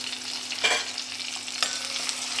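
Ginger and green chillies sautéing in oil in a pan, a continuous gentle sizzle broken by two quick spatula scrapes, heard up close without any voices.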